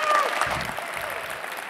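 Brief burst of audience applause at a tech conference talk, dense clapping that fades slightly over under two seconds.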